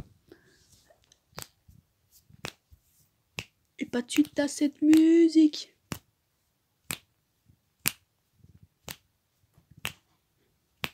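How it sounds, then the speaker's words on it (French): Sharp finger snaps at a steady, roughly once-per-second beat, close and crisp in a quiet room, briefly interrupted by someone speaking French in the middle. "J'aime bien le rythme de mes claquements de doigts."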